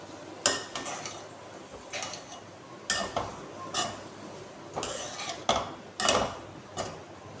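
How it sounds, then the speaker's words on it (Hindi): A utensil mixes bitter gourd in a pan with intermittent scrapes and clinks against the metal, close but fairly quiet, and no one speaks. "अब हमने इसको बराबर करके मिक्स कर देना है"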